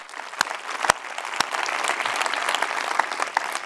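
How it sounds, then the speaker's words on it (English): Audience at a conference clapping steadily for several seconds, a dense wash of hands with a few sharp louder claps near the start, no talk over it. "She does deserve a round of applause."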